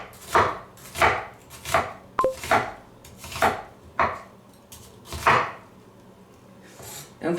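A knife chops through an onion on a cutting board during a vegetable-cutting practice, about nine crisp, close knocks in an uneven rhythm, with no talking.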